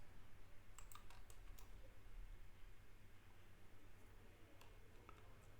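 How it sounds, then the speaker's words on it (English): Faint computer keyboard and mouse clicks scattered over a steady low hum, a few quick taps in short bursts while shapes are trimmed and deleted in a drafting program. "Just click on them and press delete."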